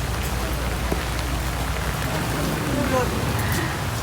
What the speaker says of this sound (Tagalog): Na, umuulan.